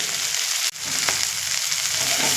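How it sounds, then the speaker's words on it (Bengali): Taro stolons with shrimp frying in a pan, a strong steady sizzle up close, briefly dipping once as it is stirred, with a couple of light spoon scrapes. "এইভাবে নেড়ে নেড়ে ভেজে নিতে হবে"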